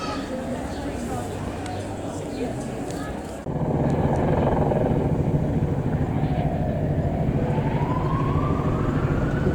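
Police helicopter flying over a city street in the evening: a steady, throbbing rotor drone grows suddenly louder partway through and stays prominent, with faint background voices underneath.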